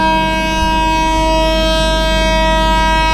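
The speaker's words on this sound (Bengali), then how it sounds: "আর একবার হর্ন মেরে দিল।" Long steady horn blast from the Dhauli Express locomotive at Puri station, a sustained multi-tone drone held for the whole stretch, loud and close with no talk over it.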